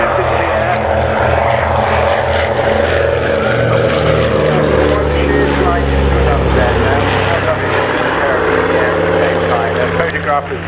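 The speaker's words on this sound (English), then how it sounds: "Plain Sailing's consolidated PBY-58 Catalina gets into the air" Consolidated PBY-5A Catalina flying boat Plain Sailing taking off at the Scampton Airshow, a loud throbbing piston-propeller drone that sustains throughout, with a commentator talking over it.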